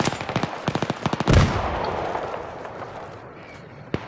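Gunfire in Battlefield 3 multiplayer: a rapid burst of automatic shots followed by a louder blast that trails off into rumbling noise, with one more sharp shot near the end.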